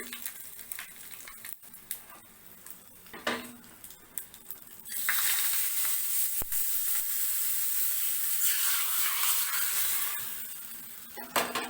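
Quiet clinks and taps give way to a sudden loud sizzle of mustard seeds, urad dal and chili hitting hot oil for tempering rasam, crackling steadily before easing off.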